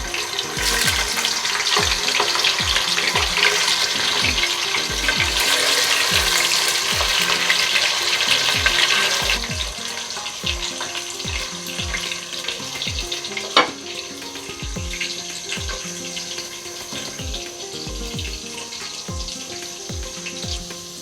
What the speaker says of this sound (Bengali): তেলটা গরম হয়ে এসছে, এবার আমি মাছগুলো দিয়ে দিলাম।